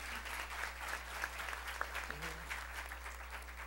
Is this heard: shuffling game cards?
no